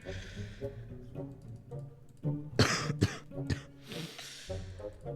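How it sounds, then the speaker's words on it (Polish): Several harsh coughs and throat-clearing bursts from a gamer playing Minecraft, loud and close, clustered near the middle of the stretch with quieter gaps and game sounds between them. "Jebany kaszel."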